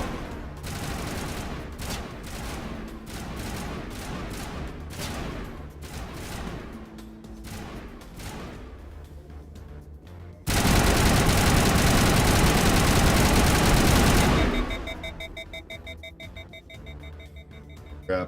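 Gunfire in Mass Effect Legendary Edition, a stream of rapid, punchy shots over a low rumbling backdrop, followed by a loud sustained blast of noise that cuts off abruptly.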